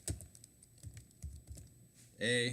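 Rapid keystrokes on a computer keyboard, typing a web address into a browser, come as a quick irregular run of close, light clicks, followed by a brief tonal electronic sound at the end.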